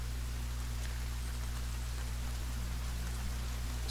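Steady rain falls in the survival game Sons of the Forest, a constant hiss without a break. A low hum runs beneath it, with a few faint clicks near the start and the end.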